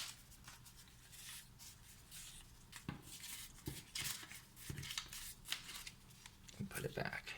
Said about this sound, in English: I'm gonna shuffle all these.